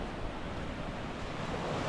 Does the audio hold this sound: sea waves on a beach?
yes